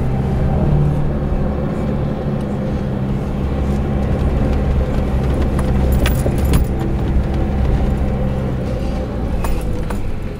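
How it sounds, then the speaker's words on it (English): Off-road buggies drive at a sandy four-wheel-drive park in Lancelin, their engines giving a steady low rumble. The drone holds constant throughout, with light rattles and clinks over the top. "But here's some of those off-road buggies."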